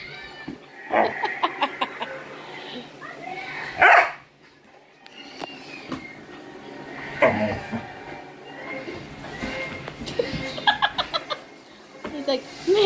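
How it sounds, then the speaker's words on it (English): A dog barks in several short bursts among other playful sounds, with a person talking and laughing softly between the barks. "are you barking at her?"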